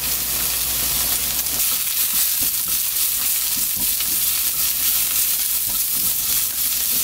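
Green onion, onion and carrot are stir-fried for japchae in a hot pan, with a steady loud sizzle and hiss and scattered scraping, stirring clatter close by.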